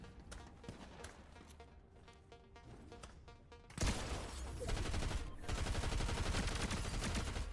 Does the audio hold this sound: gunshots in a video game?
yes